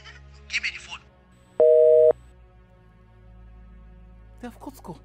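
Steady electronic telephone tone during a phone call, a short clean burst of about half a second standing out between brief bits of talk at the start and end.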